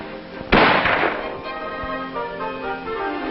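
A single sharp report from an M14 rifle on a 25-meter training range cracks out, then rings and decays over a steady background hum of old recorded sound.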